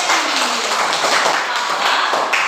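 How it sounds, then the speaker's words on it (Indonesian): A classroom of students claps for a classmate named Betty, a short dense burst of close, overlapping hand claps lasting a couple of seconds. "jadi tepuk tangan dulu untuk Betty"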